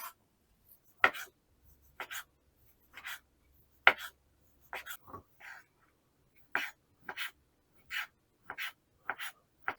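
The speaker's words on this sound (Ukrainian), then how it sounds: "Відварену грудинку нарізати кубиками." A knife cuts boiled chicken breast into cubes on a board, giving a close run of sharp, irregular taps and thuds with short pauses between them and no talking.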